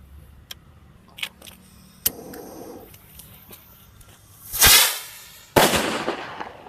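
A Cock brand firework rocket is lit and launched during Diwali, with small crackles and pops before a loud whooshing burst and a sharp bang that fades into crackling.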